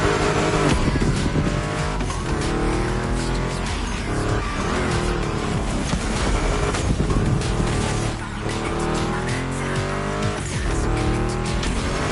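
A Ford Mustang GT muscle car in the racing game The Crew roars loudly and continuously, engine note rising and falling through gear changes while tires squeal and skid through turns.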